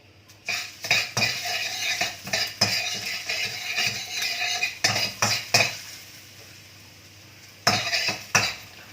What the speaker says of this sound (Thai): ตั้งกระทะใส่กระเทียมค่ะ